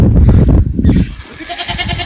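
A goat bleats loudly and close, a wavering nasal cry, followed by fainter bleats from other animals nearby.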